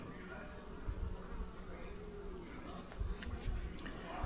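Honeybees buzz steadily in an open, weak hive, a dense close-up drone that holds even throughout with no voices.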